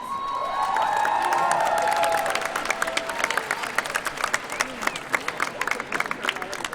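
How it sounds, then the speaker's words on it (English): A school audience at a class sing event bursts into loud applause mixed with cheering and whoops, with a voice speaking at the start before the clapping thins into scattered, distinct claps. "And yes, you should applaud"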